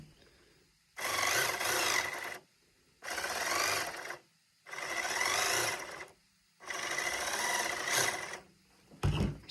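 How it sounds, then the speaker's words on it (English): Cooling fan of a Pinecone SG 1009 1/10-scale RC Land Rover whirring in neutral, a close, steady whine in four separate bursts of about one to two seconds each with silent gaps between, then a brief low thump at the end. "What you can hear there is the fan."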